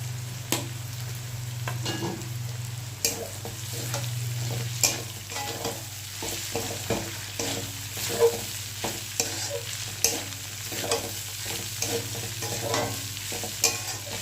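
Flattened rice (chira) frying and being stirred in a pan, a steady soft sizzle under repeated sharp spatula scrapes and taps at a loose, even rhythm, with no voices.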